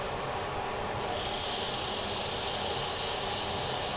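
Wood turning on a lathe is sanded with 240-grit paper, giving a steady close hiss that brightens and thickens after the first second and then holds even to the end.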